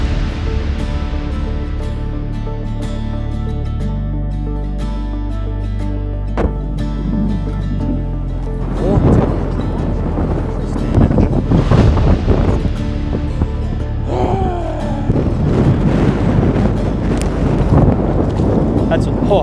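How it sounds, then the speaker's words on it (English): Strong wind buffets the microphone over steady lapping and splashing waves on a Saskatchewan lake during walleye tournament fishing from a boat, loud and continuous throughout. "we got the wind blowing into this point pretty good."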